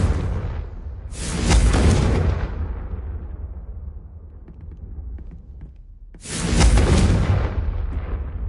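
Two loud, booming blasts of the Confringo blasting curse sound in a fantasy wizarding game, each with a sharp onset and a long rumbling decay, several seconds apart with no talk.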